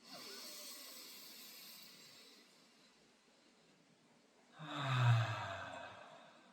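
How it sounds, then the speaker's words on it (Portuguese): A slow guided breath during a breathing exercise: a soft, airy inhale through the nose drifts in close, then a louder, breathy exhale pushes out through the mouth, with no speech. "Então inspira pelo nariz."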